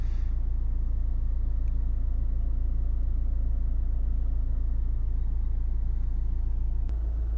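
A Honda HR-V 1.6 i-DTEC diesel engine with 47,974 miles runs at a steady idle, a deep continuous rumble heard up close and unchanging, with a faint click near the end.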